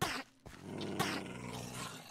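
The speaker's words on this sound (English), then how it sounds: "My dog is just killing it." A tamed wolf dog in Minecraft growls and snarls while attacking, a couple of sharp close bursts followed by a sustained rough growl, with no talking.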